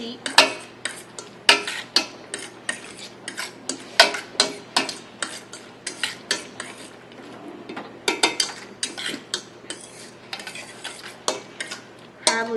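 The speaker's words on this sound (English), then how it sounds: "So you just stir fry your onions. And you're going to put it over medium heat." Onions are stir fried in a pan over medium heat, with rapid rhythmic clatter of a utensil scraping and tapping the pan, loud and close, under a faint sizzle and with no talk.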